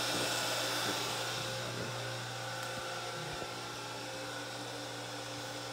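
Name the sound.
jet pump running while washer fills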